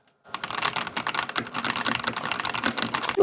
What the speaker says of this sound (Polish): mamy tutaj zastosowane switche pomarańczowe, czyli switche silent